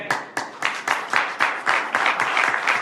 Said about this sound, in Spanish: yo sí estoy contento y le doy un aplauso al Señor